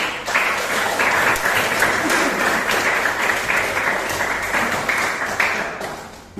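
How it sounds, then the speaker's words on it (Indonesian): An audience gives a steady round of applause at the close of a meeting, a dense burst of many hands clapping that fades near the end. "beri aplaus untuk kegiatan kita"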